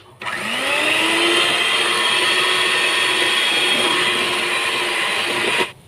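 An electric hand mixer beats eggs and sugar for a carrot cake batter while oil is drizzled in, a steady loud whine running continuously for several seconds before cutting off.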